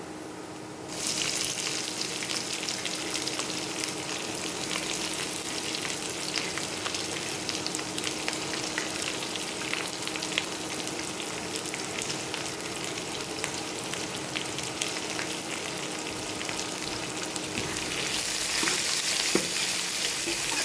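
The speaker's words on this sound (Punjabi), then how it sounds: "ਆਪਾਂ ਇਹ ਪਿਆਜ਼ ਨੂੰ ਵੀ ਚੰਗੀ ਤਰ੍ਹਾਂ ਰੋਸਟ ਹੋਣ ਦੇਵਾਂਗੇ" Onions fry in a hot pan for besan kadhi, giving a steady, dense sizzle that runs unbroken for about twenty seconds, close and even, with no voices.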